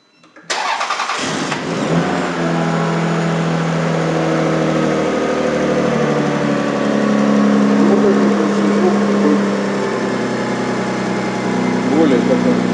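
A turbocharged Lexus RX300 with a new custom exhaust starts up after a brief crank, then settles into a steady, loud high idle as the cold engine runs close by.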